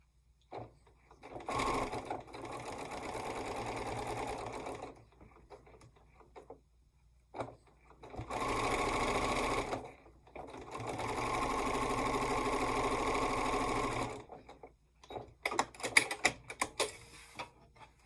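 A sewing machine runs in three sustained, moderate-speed bursts of even mechanical whirring, separated by brief quiet gaps, ending with lighter scattered clicks and rattles of handling; no one speaks.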